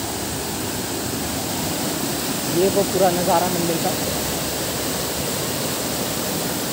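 A swollen river rushes past near a Himalayan temple in Uttarakhand, a broad, steady roar of water throughout, with a person speaking briefly over it partway through.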